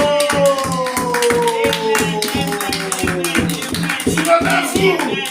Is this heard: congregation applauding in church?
yes